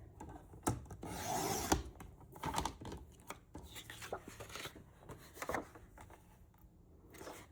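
A scrap piece of wood being trimmed gives quiet, close, irregular cutting and rubbing sounds, with a longer rasping burst early and scattered clicks and knocks after.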